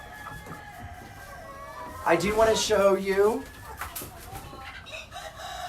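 A rooster on a small farm crows once in a loud, drawn-out call near the middle, among other chickens, while someone speaks before and after the crow.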